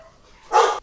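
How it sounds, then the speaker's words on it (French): A pet dog indoors lets out one loud, sharp bark after a near-silent moment, short and close. "Mon chien a aboyé parce qu'il y a..."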